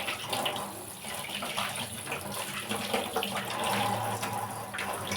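Running tap water splashing steadily while crabs are scrubbed and washed for cooking, a soft continuous gush with faint rubbing, no talk.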